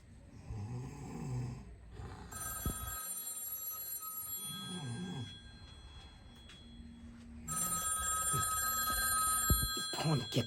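A telephone rings in two long electronic bursts over a home scene, with voices talking and low murmuring underneath. The ringing is clear and moderately loud.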